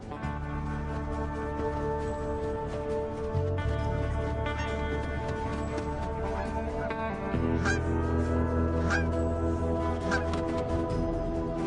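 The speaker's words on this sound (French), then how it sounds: "cette bernache du Canada" Continuous deep drone with scattered honks from Canada geese in the Arctic, a goose honking over a constant low hum in the background.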